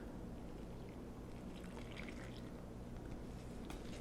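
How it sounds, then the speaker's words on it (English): Warm water pours steadily into a bowl of yeast and sugar for bread dough, a continuous close trickling and splashing with no voices. "And then 2 cups of warm water."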